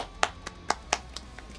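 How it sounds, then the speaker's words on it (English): Several hand claps in a quick uneven series, sharp and fairly close, alone against a quiet background. "That's a clap."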